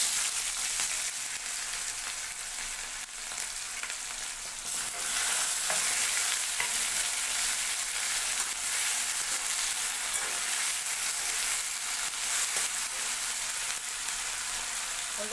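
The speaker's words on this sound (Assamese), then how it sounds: "পিঁয়াজ দি দিছোঁ।" Sliced onions hiss and crackle as they fry in hot oil with a bay leaf, a steady, close sizzle that swells louder about a third of the way in and holds there with no talking.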